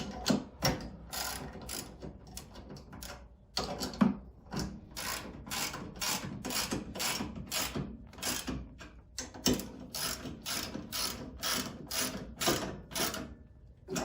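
A hand ratchet tightens bolts on a Powerhorse 13000 watt generator, making rapid close clicking bursts in repeated strokes, with short pauses between runs and no talking.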